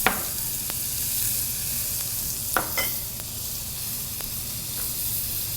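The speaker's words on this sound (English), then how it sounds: "So now we're gonna start the basting process, which you just add your butter and let it fully melt." Butter melting around a pan-seared steak crackles in a continuous close sizzle and hiss, with a few sharp spits and pops breaking through the steady frying noise.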